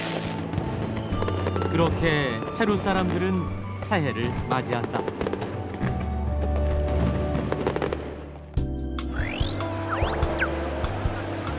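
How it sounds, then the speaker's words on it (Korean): New Year fireworks pop and crackle in rapid bursts throughout, with a high whistling rocket near the end, while someone narrates over the noise. "불꽃을 하늘 높이 쏘아 올린다"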